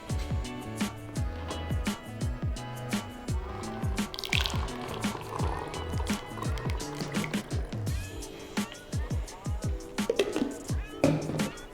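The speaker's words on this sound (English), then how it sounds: "pour the 240 millilitres of the feedstock paste into the bottle using the funnel." Feedstock paste poured through a funnel into a plastic bottle, heard as a run of irregular wet drips and glugs at close range, with faint background voices.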